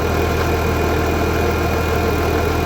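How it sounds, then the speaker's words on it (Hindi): Steady, unbroken drone of a tractor engine running its PTO belt to drive an old tube well pump outdoors, a constant mid-low rumble with a faint high whine and no talking. "आगे ट्रैक्टर है, ट्रैक्टर का जो है ना पीटी वाला गेयर वो लगा हुआ है"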